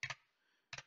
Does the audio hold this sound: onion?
no